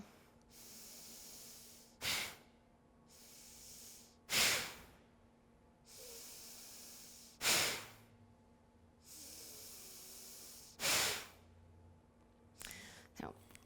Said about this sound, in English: So your inhale, nice and long and lengthy, something like this. Then on the exhale, we're going to drive the belly in and up.